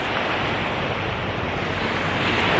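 Ocean surf washes steadily onto a beach at sunrise, a constant loud roar of breaking waves with wind buffeting the microphone and no voices.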